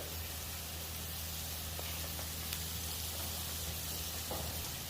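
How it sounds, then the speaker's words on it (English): Butter sizzling on a flat-top cast iron griddle while burgers are being cooked, a steady, even hiss of frying that carries on without a break and with no talk over it. "We're keeping true to the recipe, and we're going to add some more butter."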